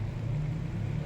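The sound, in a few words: vehicle passing on highway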